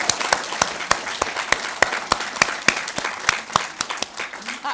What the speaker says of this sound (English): Can we just have an applause?